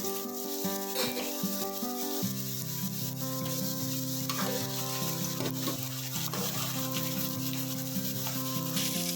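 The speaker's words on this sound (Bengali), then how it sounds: "এখন আমি দিয়ে দেবো আদা রসুন বাটা।" Steady oil sizzle of ginger garlic paste frying with browned onions, with occasional stirring scrapes, continuous and close, no voices.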